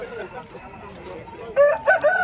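A pure Ujjain breed rooster at a Sunday poultry market in Vijayawada crows loudly near the end, after a stretch of quieter background murmur and market noise.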